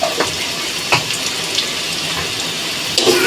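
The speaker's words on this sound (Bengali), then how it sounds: "জল দিয়ে দিলাম, মশলাটা পুড়ে যাবে।" Water poured into frying spices in a cooking pan gives a splashy, hissing pour with brief bursts, close and fairly loud over a short stretch.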